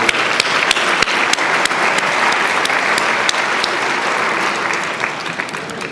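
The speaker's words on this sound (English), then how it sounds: "A round of applause for our table sponsors." At the Cleveland Jewish News Difference Makers 2019 ceremony, an audience gives loud, continuous applause for table sponsors, many hands clapping steadily with a few crisp claps up front throughout.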